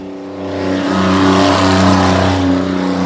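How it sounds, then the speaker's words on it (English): A loud water truck engine at a dirt race track before a race, a heavy throbbing drone that swells and holds steady close by, with no talk over it. "That's one loud water truck, isn't it?"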